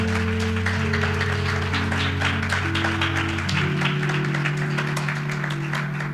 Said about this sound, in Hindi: आइए जीवित परमेश्वर के लिए हम जोर से ताली बजाएंगे।